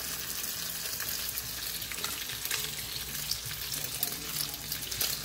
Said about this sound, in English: I'm going to take it and I'm going to drop it in the pan.